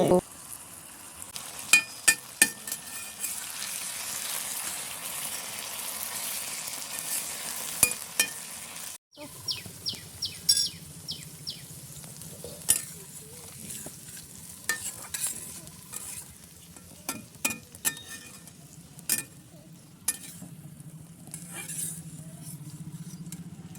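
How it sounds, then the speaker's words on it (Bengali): Potato pieces frying with salt in a pan for sabudana pulao, a faint sizzle broken by frequent sharp clinks and scrapes of a spoon stirring against the pan. "নুন দিয়ে আলুটা ভেজে দেবো"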